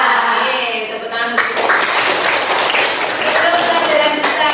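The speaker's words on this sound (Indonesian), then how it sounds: "Oke, tepuk tangan." A classroom of students claps together in a dense, steady burst of applause that rises sharply and continues for several seconds.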